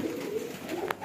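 Pigeons in a loft coo softly and steadily, a low murmuring bird call running through the short stretch at moderate distance with no talking.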